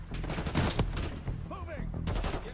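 Rapid bursts of video-game gunfire ring out in a tense online shooter firefight, with clustered rattling shots, a brief pause, then another volley, under faint background voices.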